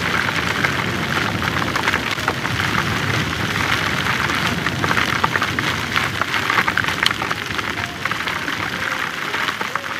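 Heavy rain falling during an outdoor ride, a steady dense hiss of drops spattering on surfaces throughout, loud and unbroken.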